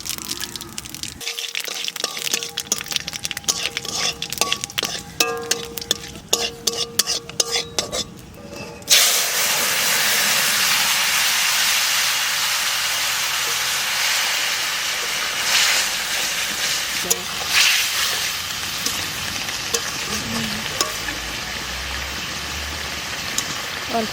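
Cumin and radhuni seeds hit hot oil with a sharp crackle, then a steady, loud, hissing sizzle that keeps on. Sounds of stirring and handling come first, and a voice speaks over the frying.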